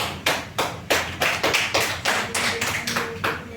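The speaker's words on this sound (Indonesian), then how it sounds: "Beri tepuk tangan untuk Najwa." Students in a classroom applauding a classmate, a string of about a dozen sharp, fairly regular hand claps at moderate distance with no talking over them.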